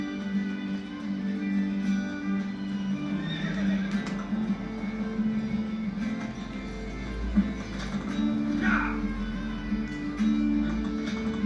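A horse in the Assassin's Creed video game whinnies a few times over a steady clip-clop of hooves, set against a continuous low game soundscape with a humming drone, with no one talking.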